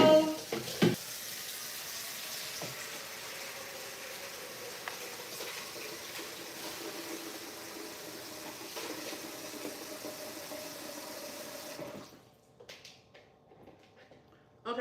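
Tap water runs steadily into a kitchen bowl for about twelve seconds as Thanksgiving dinner is prepared, a constant close hiss and splash that cuts off abruptly near the end.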